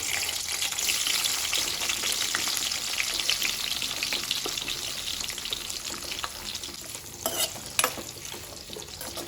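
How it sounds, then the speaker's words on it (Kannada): Bitter gourd pieces shallow frying in oil in a pan, a steady close hiss and sizzle with occasional stirring scrapes and pops, no talking. "ಈಗ ಇದೇ ಎಣ್ಣೆಗೆ ಈ ಹಾಗಲಕಾಯಿ ಹೋಳುಗಳನ್ನು ಹಾಕ್ಕೊಂಡು ಶಾಲೋ ಫ್ರೈ ಮಾಡ್ಕೊಳ್ತೇನೆ"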